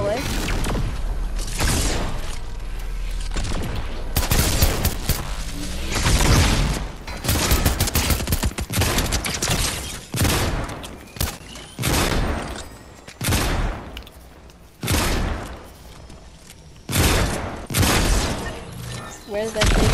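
Rapid bursts of gunfire from a Fortnite battle royale trios match, loud repeated volleys and booms in quick clusters across the whole stretch, with players talking over the shooting.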